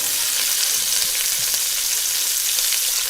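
Peppers and onions sizzle in olive oil in a pan, a constant, bright frying hiss with faint stirring, close up and with no voices.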